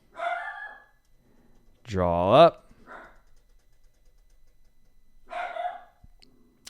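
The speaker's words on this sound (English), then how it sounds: "I think you could definitely now hear my dog barking in the background." A pet dog barks in the background at home, a short bark near the start, a longer yelping howl in the middle and another bark at the end, with brief speech between.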